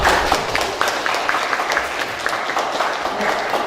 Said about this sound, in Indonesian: boleh kita tepuk tangan